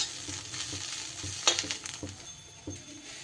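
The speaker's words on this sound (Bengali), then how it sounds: "এবার সব মশলাগুলো দিয়ে একটু নাড়িয়ে চাড়িয়ে দিতে হবে।" Bitter gourd frying with spices being stirred in produces a soft, close sizzle broken by intermittent spatula scrapes and light taps against the pan.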